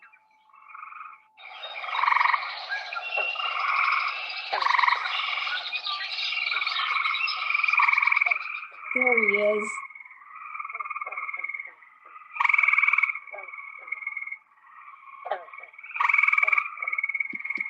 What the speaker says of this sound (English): this is the gray tree frog